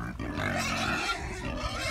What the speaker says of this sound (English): So pigs are out again with the sheep.